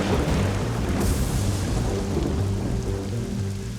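Steady rain pours down outdoors on a house renovation site, a dense, continuous hiss with a low rumbling undertone throughout, no voices.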